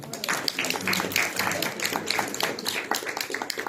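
A seated congress audience claps warmly for an honoree, a busy, uneven rattle of hands with sharp individual claps poking through, while background voices chatter faintly throughout.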